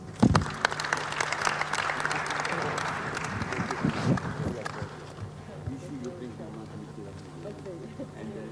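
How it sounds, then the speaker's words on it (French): Audience applause for the panelists at the close of a panel discussion, dense clapping over the first half or so that thins out and fades, with voices and crowd murmur underneath. "on applaudit les panélistes"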